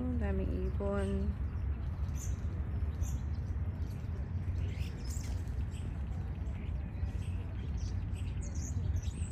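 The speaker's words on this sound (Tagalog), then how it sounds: "Daming ibon." Birds chirp and tweet intermittently over a steady outdoor background hum at the Dammam Corniche, Saudi Arabia, with a brief tonal call near the start.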